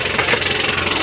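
A 2008 Hyundai Porter with a T4BB diesel engine idles close by, a steady, loud rumble with a faint rhythmic pulse and no voices.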